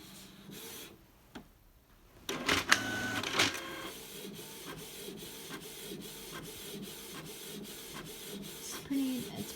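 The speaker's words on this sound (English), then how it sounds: "It's printing pretty quick." A Canon PIXMA TS202 inkjet printer printing a page: soft whirring and clicks that give way to a steady train of quiet, rhythmic mechanical ticks as the paper feeds through, close by and with no talking.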